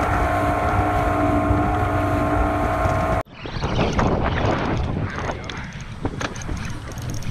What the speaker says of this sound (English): So I know y'all hear that wind.